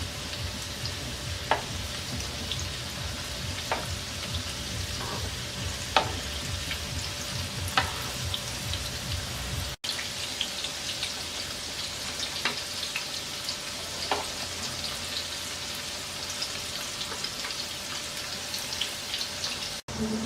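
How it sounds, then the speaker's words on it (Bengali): Chicken cheese fingers frying in oil over medium heat, giving a steady, close sizzle that runs the whole time, with a few light clicks and taps from turning the pieces. "ফিঙ্গারগুলোকে আমরা মিডিয়াম আঁচে ভাজবো।"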